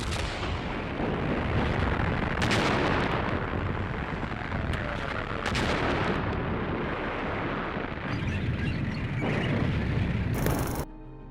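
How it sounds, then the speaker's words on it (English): A massed barrage of British artillery cannons in the North African desert rumbles continuously with overlapping deep booms and sharp blasts, loud and sustained across the whole stretch. "The sky lights up with an orange glow as 800 British cannons open fire."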